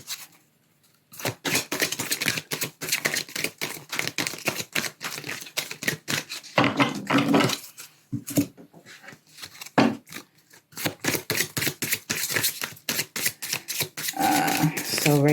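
Oracle cards being shuffled and pulled, rapid dense flurries of papery riffling and snapping, close and loud, broken by brief pauses and a few short bursts.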